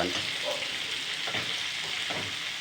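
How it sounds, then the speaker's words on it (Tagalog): Firm vegetables sizzling and frying in a hot pan, a loud, continuous crackling hiss with a few stirring scrapes, close up and alone. "Nailagay ko na yung gulay, yung muna. Yung medyo matigas."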